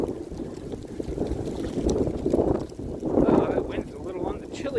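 Chilly wind blows outdoors, a steady rushing roar buffeting the microphone with gusts swelling and fading, loud and close throughout.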